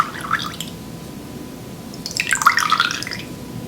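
Droplets of water trickle and drip into a bowl of hot water, close and soft, with a small patter early on and a fuller cluster of wet drips and splashes near the end over quiet room hiss.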